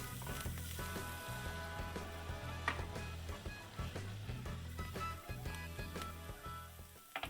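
Seafood sizzling and frying in a very hot pan, a steady, fairly quiet crackle and hiss that continues throughout without talk.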